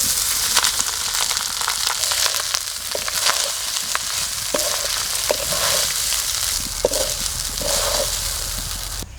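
Cooked rice tipped into a pan of cumin seeds, whole garam masala and bay leaves frying in oil, for restaurant-style jeera rice, giving a steady loud sizzle with scattered sharp crackles and spatula scrapes throughout.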